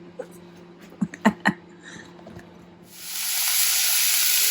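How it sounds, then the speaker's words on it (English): Beef mince sizzles in a hot pan, a steady broad hiss swelling up halfway through after a few scattered clicks and taps. "I'm just frying off the beef mince"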